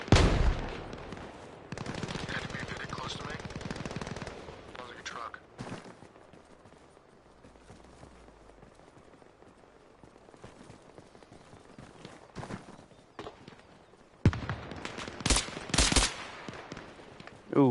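Bursts of gunfire in the military video game ARMA Reforger, some rapid automatic runs and scattered single shots, loud at the start and end with quieter distant firing between.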